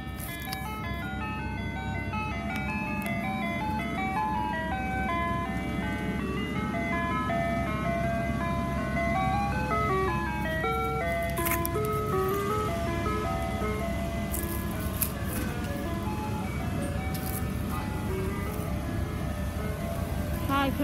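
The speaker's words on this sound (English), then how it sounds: "the ice cream truck is here" An ice cream truck plays its looping jingle melody over a running engine, the tune carrying steadily and fairly loud throughout, with faint background noise and occasional brief sounds.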